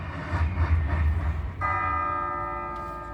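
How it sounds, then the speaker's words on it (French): Bells of the Bergues belfry ring out during an outdoor video mapping projection show in September 2019, sustained metallic tones entering midway over a rumbling, noisy background, loud and close, with no talking. "Les cloches ont sonné jour après jour."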